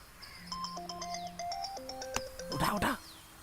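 A melodic electronic phone ringtone plays a short repeating tune, followed by a brief burst of rustling or handling noise.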